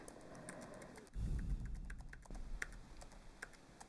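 Quick, light keyboard clicks tapping in an irregular rhythm, close by, with a brief dull thump partway through.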